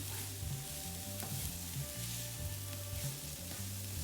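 Onions sauté gently in a pan with a soft, even sizzle. Faint low clinks and scrapes sound at intervals underneath the quiet hiss.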